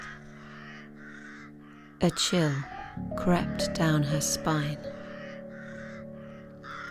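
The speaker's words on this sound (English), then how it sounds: "she saw a mass of crows, shrieking and fighting and feeding on something." Several crows caw and shriek from around two to five seconds into a moody audio-drama scene, loud harsh calls set against a sustained musical drone, with a narrator speaking throughout.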